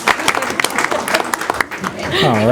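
An audience at a school board meeting gives a short burst of clapping, close and fairly loud, as a voice talks over it toward the end.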